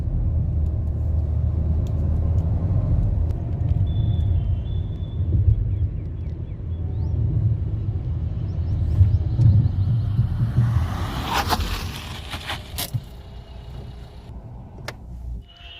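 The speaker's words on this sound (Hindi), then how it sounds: "इस रोड पर हम चेक करेंगे कि हमारी गाड़ी 60 की स्पीड में कितनी दूर जाकर रुक रही है।" A Ford EcoSport Titanium with ABS cruises at 60 km/h on an asphalt road with steady low tyre and engine rumble, then brakes hard, the roar fading to quieter cabin noise with a few clicks.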